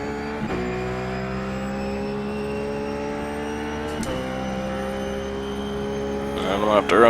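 A Ruf GT3 race car engine drones at Sebring in iRacing, holding a steady high-pitched tone with abrupt pitch drops at gear changes, close and loud, rising again near the end.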